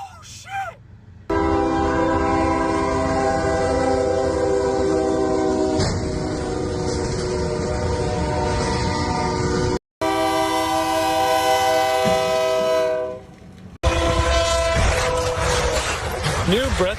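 Train horn blasting long and loud over the rumble of passing rail cars at a crossing crash outside Houston, steady and close for most of the stretch with brief breaks, voices faintly under it.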